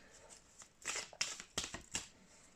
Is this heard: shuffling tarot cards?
yes